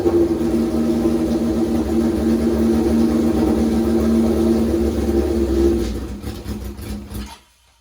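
A car engine runs rough with a suspected fuel problem, holding a steady loud drone with an uneven low throb for several seconds before it sputters, stumbles and dies away to silence.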